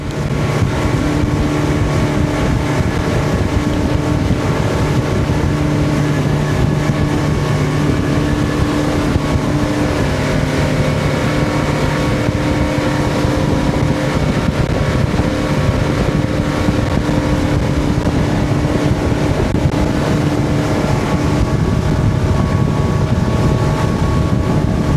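A fishing motorboat's engine runs steadily at a loud, constant pace on the Gulf near Venice, with water rushing and wind buffeting the microphone throughout.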